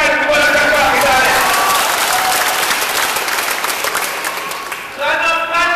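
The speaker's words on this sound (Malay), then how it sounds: "Siapa berikan tepukan kepada kakak kita ni?" Audience clapping at a political talk, a loud burst of applause that slowly thins and fades before the crowd noise swells again near the end, with a voice talking over the clapping.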